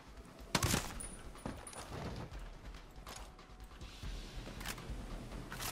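Assault rifle fire in Ghost Recon Breakpoint at Maunga Nui port: several sharp, fairly close gunshots in short bursts, with game ambience in between and a brief mechanical click.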